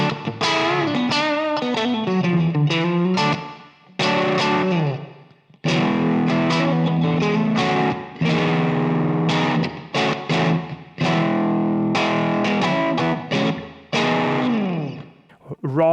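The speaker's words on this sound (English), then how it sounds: "Raw distortion, good deal of compression, very throaty" A Palmer Eins electric guitar plays through raw, heavily compressed distortion on single-coil pickups and is recorded with a Shure microphone. The tone is throaty and honky, and the riffs are loud and sustained, broken by brief pauses.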